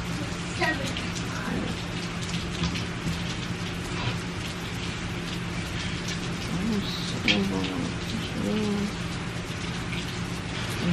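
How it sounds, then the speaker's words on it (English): Steady rain pours down with dense broadband hiss, a constant close wash of drops, while faint voices murmur in the background. "I don't know if y'all can hear that rain picking up."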